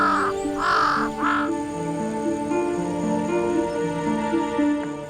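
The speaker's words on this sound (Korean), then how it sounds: "까마귀는 아무리 좋게 봐주려 해도 불길한 느낌이 들지요" Repeated harsh crow caws, three loud calls in quick succession near the start over a steady tonal drone and background hum, then quieter calls trailing off on a sandy beach where baby sea turtles hatch.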